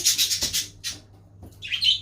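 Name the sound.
birds chirping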